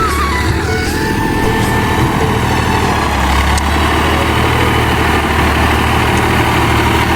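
Tractor engine running steadily in a flooded rice paddy during planting, a loud continuous low rumble close by with no pauses or talk.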